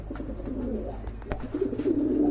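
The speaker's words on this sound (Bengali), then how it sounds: "অনেকদিন পরে এক জোড়া নান কবুতর দেখলাম এটা হচ্ছে ব্ল্যাক অ্যান্ড হোয়াইট নান" A pair of black-and-white Nun pigeons coo at a Bangladeshi pigeon market: soft, low throaty coos repeat through the clip over a steady murmur of background noise, growing fuller toward the end.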